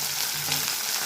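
Green peas frying in oil with onions for vangi bath, a steady close sizzle with faint stirring, alone and without talk.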